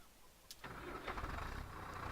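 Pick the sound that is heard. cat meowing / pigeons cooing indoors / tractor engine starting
tractor engine starting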